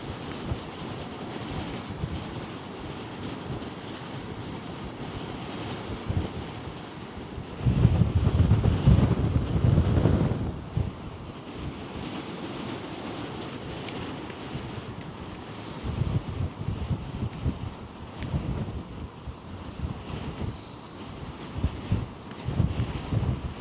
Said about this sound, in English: Oh, dude, the wind is picking up.